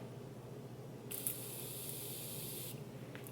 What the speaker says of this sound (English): I'll put some setting spray on it.